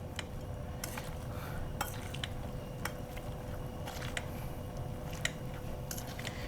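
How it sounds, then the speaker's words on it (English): Braised carrots being smashed into a mash for short ribs, heard as soft scraping and clinking of utensil against a pot or dish in irregular taps over a steady low kitchen hum, with no talking. "We're gonna smash our carrots."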